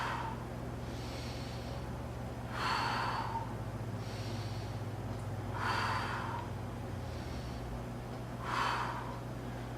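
Forceful breathing during a floor press back exercise: three loud, drawn-out exhalations roughly three seconds apart, close to the mic over a low steady hum.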